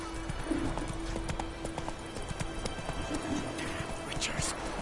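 A horse gallops in The Witcher 3 with steady, rapid clip-clop hoofbeats close by, alongside a brief whinny, game ambience, and someone speaking over the hooves.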